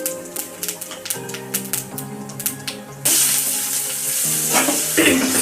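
Dried red chillies and cumin seeds go into hot oil on a stove for an Odia meal. First come light, rapid, typewriter-like clicks and crackles, then a sudden loud, steady sizzle that carries on to the end.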